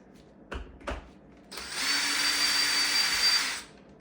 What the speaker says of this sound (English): Okay, take those screws out.